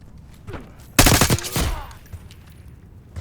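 Gunfire in Call of Duty: Black Ops 6 during the Hunting Season mission: one loud, rapid automatic burst of shots cracks out for under a second, with a faint battle ambience before and after.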